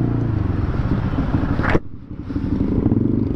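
An MV Agusta motorcycle engine runs steadily and close, with a brief sharp cutoff midway before the rumble resumes.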